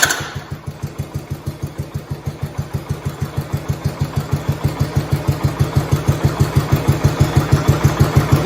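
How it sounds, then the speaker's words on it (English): A 1971 engine, just fitted with new crank seals, fires up and settles into a steady idle with a fast, even pulsing beat that holds loud and close throughout, with no talking. "Let's start the engine up, make sure it starts and runs good."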